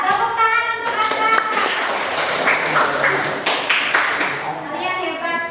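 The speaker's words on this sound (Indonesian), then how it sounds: "tepuk tangan untuk Anda" Students in an Islamic religious education classroom clap together for a classmate, a dense burst of hand claps lasting throughout, mixed with children's voices and chatter.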